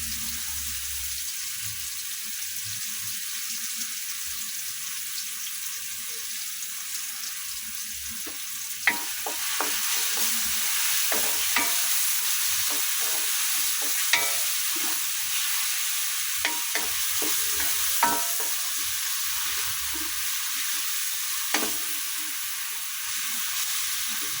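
Alamang shrimp paste sizzles steadily in a pan for bagoong, a broad hiss with scattered scraping stir clicks and a few sharper spatula taps through the second half.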